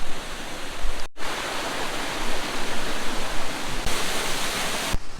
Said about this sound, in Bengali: আর এপাশেই রয়েছে ঝর্ণা